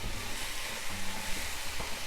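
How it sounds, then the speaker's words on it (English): Peanuts fry in oil in a pan over a gas stove, giving a steady, close sizzle that carries on evenly without a break, with no voices heard. "So let's fry this, and I'm going to slow my gas flame now"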